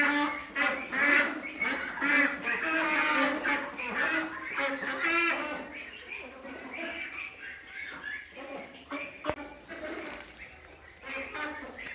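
A flock of Pekin Star 13 hybrid broiler ducks quacking in a continuous overlapping chorus, nearby and loud at first, then thinning to scattered calls.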